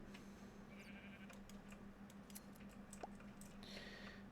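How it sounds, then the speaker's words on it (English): A sheep in the Minecraft video game bleats briefly against a steady background hum and game ambience, moderately close with no talking over it. "We got a good sheep."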